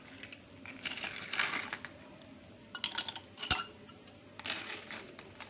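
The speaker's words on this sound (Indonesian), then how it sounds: "Kemudian tambahkan es batu secukupnya." Ice cubes drop into a glass of Thai tea, giving scattered clinks and rattles in a few small bursts against a quiet room background.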